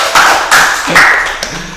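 Hands clap in a few short bursts, sharp and close, with scattered taps between them, as a crowd shows appreciation for a song performed at a community hajatan music gathering.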